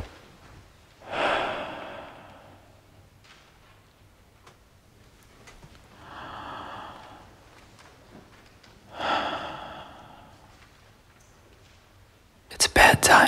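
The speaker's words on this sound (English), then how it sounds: "Let's just do some quick breathing exercises as a crowd." A stand-up comedy crowd doing breathing exercises together: three long, loud, breathy swells of collective exhaling and inhaling, separated by quieter pauses, with a sharp clatter at the very end.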